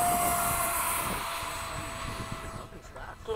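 A Freewing 70mm electric ducted fan F-35 RC jet takes off at a flying field, giving a steady, fairly distant high-pitched whine that fades toward the end, with faint voices in the background.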